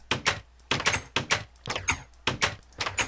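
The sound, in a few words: new door sound in Minecraft release candidate 2, video game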